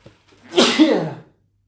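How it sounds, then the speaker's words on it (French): One close, loud sneeze with a brief intake before it, then silence. "Je crois que je vais éternuer."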